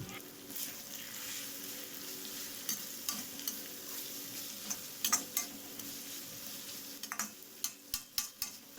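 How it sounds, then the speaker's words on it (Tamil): Cabbage stir-fries in a pan for street-style chicken fried rice, a soft constant sizzle broken by sharp scraping and tapping strokes of a spatula that grow quicker toward the end. "இப்போ இது ஓரளவுக்கு வதங்கிட்ட பிறகு அதிலேயே முட்டைக்கோஸ் ஆட் பண்ணி நல்லா வதக்கி விட்டுறணும்"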